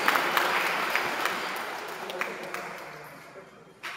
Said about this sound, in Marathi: त्यांचा आपण टाळ्या वाजवून आपण सर्वजण स्वागत करतो.